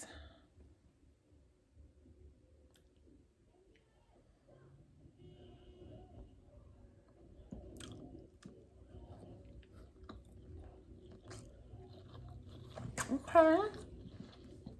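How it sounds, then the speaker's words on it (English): A few soft, crunchy bites of a spicy crunchy California sushi roll, chewed close to the mic. The chewing is quiet and intermittent over a low background hum, with a slightly louder crunch near the end. "I'm gonna try the spicy, crunchy California roll. Take the first bite."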